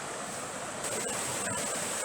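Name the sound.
river water flowing at a mill water intake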